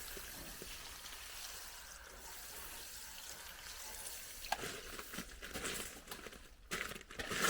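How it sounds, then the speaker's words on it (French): Water streams and splashes over a car while foam is rinsed off during detailing, a faint, continuous pouring hiss that grows louder and more irregular in the final seconds. "On va rincer et renouveler l'opération."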